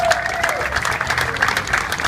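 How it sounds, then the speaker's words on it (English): Applause for a mayor at an event, a short steady burst of clapping from a crowd in a room, fairly loud and continuous throughout. "give Mayor Paolino a big round of applause"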